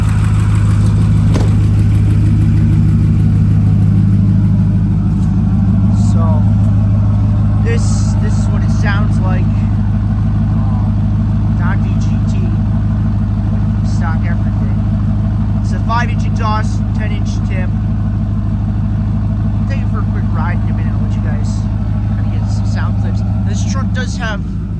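A Ford 6.4 Powerstroke diesel truck engine running with a custom non-VGT tune and a leaking manifold, a loud steady low rumble with a faint rhythmic tick above it, and someone speaking intermittently over the engine.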